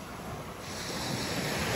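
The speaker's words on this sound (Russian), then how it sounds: "Осторожно, осторожно, волна, волна" Sea waves wash onto the shore on a fine day, a steady broadband roar with wind buffeting the microphone, swelling slightly louder toward the end, with no voices over it.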